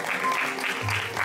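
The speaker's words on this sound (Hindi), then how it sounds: "सब लोग ताली बजा के आशीर्वाद दीजिए" Audience clapping at a Hindu religious discourse (satsang), a dense, steady patter of many hands filling a short burst.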